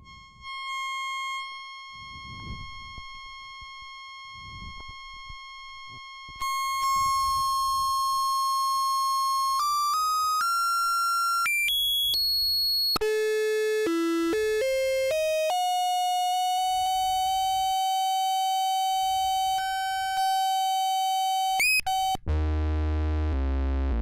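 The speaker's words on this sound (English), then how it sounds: "it's more of a distorted sine wave" A steady electronic tone from a circuit-bent Heathkit AG-9A oscillator, a distorted sine wave, holds, then steps through a series of pitch changes and sweeps, with brief low murmurs in the background and a buzzy burst at the end.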